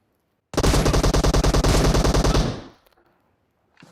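Automatic gunfire in the mobile game PUBG Mobile: one loud, close burst of about two seconds of rapid, evenly spaced shots that cuts off sharply, followed by near silence.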